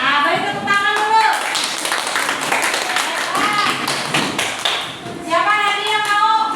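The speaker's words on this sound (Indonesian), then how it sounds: "beri tepuk tangan dulu." A class claps after a student presentation, with scattered hand claps and taps mixed under several voices talking and calling out, fairly loud and close in a room.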